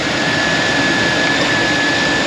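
A car engine idles steadily after an alternator pulley swap, giving a continuous loud broadband whir with a faint high whine, close and constant with no talking.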